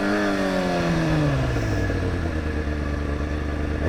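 A Yamaha FZ07 motorcycle ridden hard roars past close by, its revving engine climbing and then dropping in pitch as it speeds away, loud and continuous.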